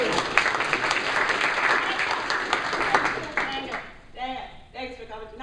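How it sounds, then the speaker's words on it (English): Dense, loud audience applause and clapping fills a room at a Long Island improv comedy show, then fades as a voice begins talking over the last moments. "Please give them a warm round of applause."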